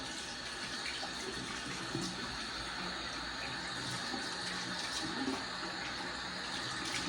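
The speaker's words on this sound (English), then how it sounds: "All right, I'm gonna rinse the face." Water splashing and running steadily at a sink while a face is rinsed after a shave, a continuous broadband wash of close, moderately loud water without speech.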